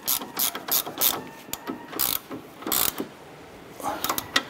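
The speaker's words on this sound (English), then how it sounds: "We're gonna use our 17 millimeter socket and wrench, and we're gonna snug this bolt down" A 17 mm socket wrench ratchets a lower strut clevis fork bolt on a 2008-2012 Honda Accord, giving quick bursts of sharp clicking strokes in uneven rhythm, close and crisp with no talk.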